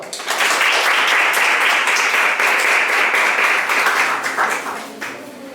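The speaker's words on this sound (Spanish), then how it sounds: "Le brindamos un fuerte aplauso, por favor." An audience applauds a speaker just introduced for a talk on mathematics from a women's perspective. The clapping is dense and steady, fairly loud and close, and fades slightly at the end.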